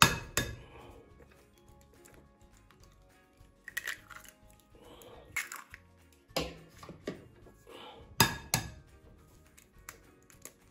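Eggs cracked into cupcake batter for Oreo cupcake muffins: a few sharp clinks and taps against a bowl, with light rustling and handling noises between them and no talking.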